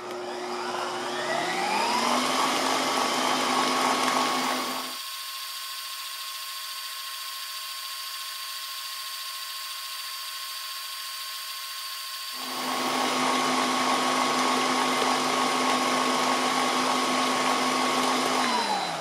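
Oster OBAT911 planetary stand mixer kneading dough: a steady whirring motor whine ramping up, then a quieter lower hum for several seconds, then the louder whine again, with no talk.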